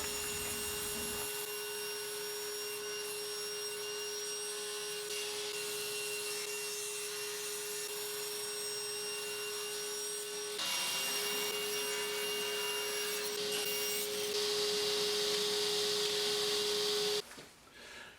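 A power saw cutting wooden planks into thin strips for a lattice: a steady motor whine with a sustained hum and hissing cut noise, fairly loud and continuous, stepping up in intensity later before stopping abruptly.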